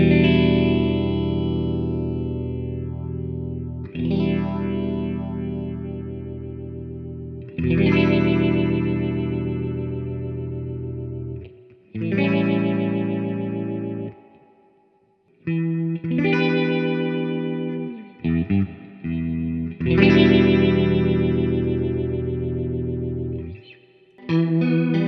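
Electric guitar played through a 1972 Fender Super Reverb amp with modulation effects, sustained chorus-swirled chords ringing loud and close, each held several seconds and broken by brief pauses between strums.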